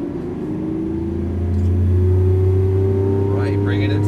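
A Lamborghini Aventador's engine drones loudly and steadily inside the car on a track as the driver upshifts to second gear, its tone stepping up, while an instructor's voice talks over it.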